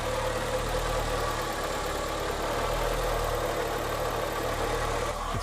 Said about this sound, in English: It's starting to make a little water pump noise.